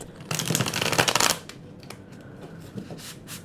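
Rapid riffle of tarot cards being shuffled for about a second, a crisp fluttering burst, followed by a few soft taps and quiet handling noises.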